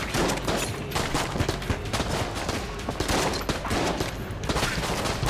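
Turrets in Enter the Gungeon firing nonstop: a dense, loud barrage of rapid shots and impacts that keeps going without pause for several seconds, with no talking.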